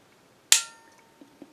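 A single sharp metallic snap of a pistol dry firing with a ZEV Fulcrum trigger, close and crisp, followed by a couple of faint small clicks.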